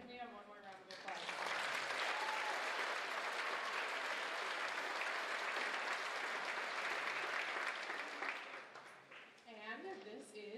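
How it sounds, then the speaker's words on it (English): Audience applause at a high school band holiday concert, a full round of clapping that swells quickly, holds steady, then tapers off, with a voice speaking briefly at the start and end. "Can we have one more round of applause?"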